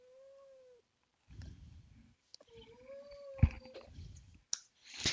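A cat meows in drawn-out, rising and falling cries, several separate calls close by, mixed with rustling, handling noises and a couple of sharp clicks.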